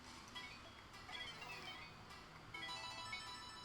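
Faint melodic phone ringtone chiming in repeated tonal phrases, quiet and somewhat distant, with no voices over it.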